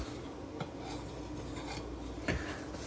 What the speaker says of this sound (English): I'm just gonna take a few back and forth, very light strokes through that belly section where the burr is